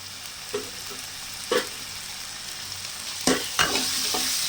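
Curry leaves dropped into hot oil in a pan for a Tamil-style egg curry, giving a steady sizzle with a few sharp stirring scrapes standing out, close and alone with no talk.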